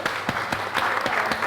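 Audience applause at a food and digital content conference, a short burst of dense hand claps in a room, moderately loud and steady throughout.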